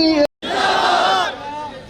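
Crowd at a religious political rally against a seminaries bill shouting a slogan in unison, a loud massed roar swelling after a brief pause, then fading toward a single voice.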